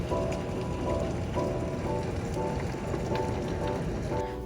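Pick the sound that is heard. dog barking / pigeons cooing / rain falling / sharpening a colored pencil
rain falling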